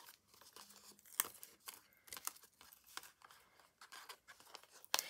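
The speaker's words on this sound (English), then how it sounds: "bit of tape across diagonally to hold your card down" Adhesive tape torn and stretched across card, quiet close crinkling and ripping noises in a few short bursts with small pauses, soft overall with sharper snaps near the start and end.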